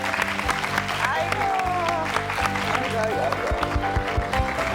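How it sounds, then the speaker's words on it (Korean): A KBS TV studio audience breaks into applause at the close of a talk show segment, a dense, continuous wash of clapping heard together with overlapping voices and a steady background hum. "우리 큰 박수로 응원하면서 오늘 사랑방 문 닫겠습니다"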